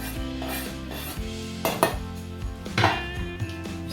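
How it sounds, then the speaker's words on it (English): Cream, cheeses and basil being stirred into a pot of lasagne soup, with repeated clinks and scrapes of a utensil against the pot over a steady background. "so now we're going to stir in all the rest of our ingredients."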